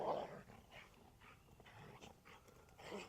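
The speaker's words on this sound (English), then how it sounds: "Y'all hear my dog?" A dog barks and growls faintly in the distance in a summer vegetable garden, several quiet, irregular bursts over a few seconds with no talk.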